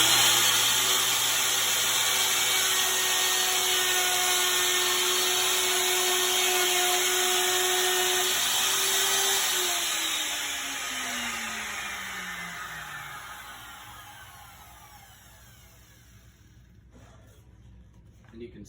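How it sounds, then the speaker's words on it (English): A router trimming a laminate edge runs as a loud, steady high whine, then spins down in a falling tone and fades nearly to silence before a final small clatter. "When we use the router, we pull it towards ourselves."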